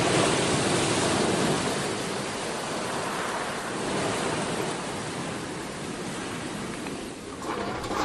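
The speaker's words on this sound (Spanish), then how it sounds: "permiten observar muy de cerca la fuerza de las olas rompiendo contra las rocas" Waves breaking against rocks along the Madeira coast, a broad continuous crashing roar of surf that stays loud and steady with slight swells in intensity, no voices.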